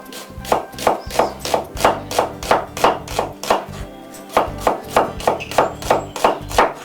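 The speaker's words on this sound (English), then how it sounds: "So you want me chopping to the chop onions." Onions being chopped on a board in a home kitchen: a steady run of sharp knife strikes, about two per second, close and distinct, with a brief pause midway.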